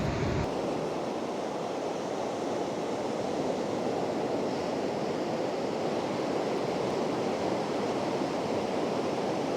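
Ocean surf rolls onto a winter beach at Big Sur in a steady, broad wash with no breaks. Some wind rumble sits under it, and no voices are heard.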